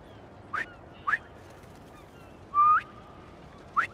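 Four short rising whistles call pigeons in Spider-Man 2 on PS5. They come at uneven intervals, clear and close against near silence, and the third is longer and steadier.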